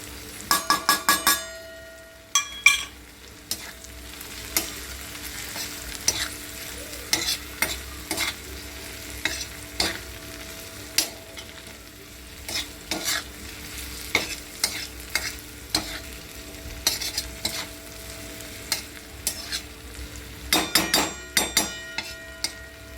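Green chillies roasting in a pan with turmeric and salt, a steady low sizzle under repeated clanking stirs of a spatula against the pan, with bursts of scraping near the start and end.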